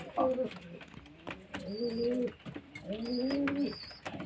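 Pigeons cooing close by, several soft throaty rolling coos in a row, mixed with light rustling and a person's voice.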